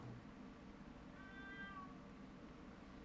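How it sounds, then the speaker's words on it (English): A cat meows once, a soft drawn-out call heard faintly from nearby against a low steady background hum. "If you're hearing my cat meowing"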